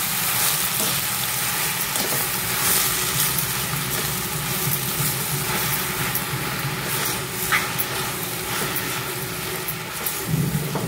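Chopped fenugreek leaves and spinach stirred in a hot pan for methi palak paratha filling, giving a steady, close, broadband sizzle with soft stirring scrapes throughout and no talking.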